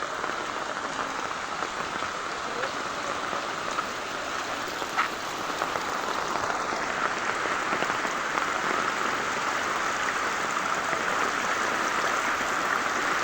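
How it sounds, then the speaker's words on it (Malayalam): Water rushes steadily down the edge of a flooded plot of land, a continuous close hiss like heavy rain that holds at an even level throughout. "സൈഡിൽ കൂടെ എല്ലാം വെള്ളം ഇറങ്ങി വരുന്നുണ്ട്"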